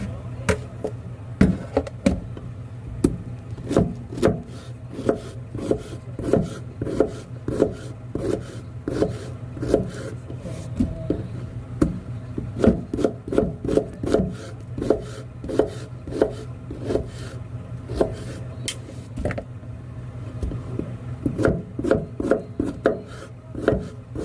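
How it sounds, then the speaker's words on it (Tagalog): Young pumpkin is chopped on a wooden board in a fast run of steady knife thuds, close and clear, with short pauses between bursts and no talking. "Ayan yung paghiwa niya."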